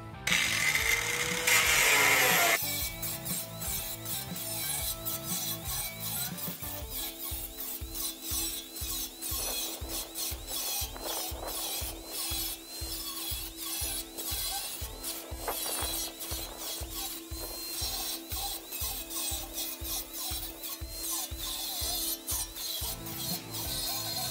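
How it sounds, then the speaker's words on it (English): Close, loud grinding as an angle grinder cuts through a metal burn barrel, a continuous rasping whine carrying a rapid pulsing rhythm that runs steadily through the whole stretch after a brief harsher burst at the start. "It's helpful to make a line with the grinder instead of going all the way through first."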